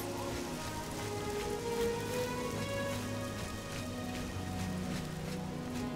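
Steady rainfall in the video game The Elder Scrolls IV: Oblivion, a continuous hiss of drops on surfaces under tonal game music, constant and fairly loud throughout with no talking.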